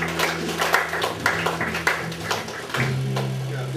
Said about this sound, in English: If you're happy, clap your hand for Jesus.